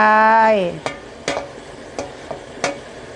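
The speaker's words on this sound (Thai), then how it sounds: "ผัดมะเขือยาวนะคะ คนค่ะ คลุกให้เข้ากันนะคะ" Eggplant, shallots, red chilies and basil with minced pork being stir-fried in a pan: a sustained tonal hum at first, then four or five separate scraping strokes of a spatula against the pan, close and fairly clear.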